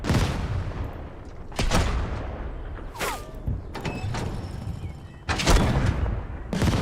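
Tank guns firing in the strategy game Total Tank Generals, with several loud booming shots and blasts spread across the clip, over a rumbling battle backdrop with faint whistling and clanking effects.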